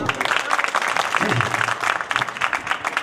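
An audience at a Hindi poetry gathering, a kavi sammelan held for a former Madhya Pradesh chief minister's birthday in Pandhurna, breaks into steady, dense applause, a lively rattle of many hands clapping at close range with some voices underneath.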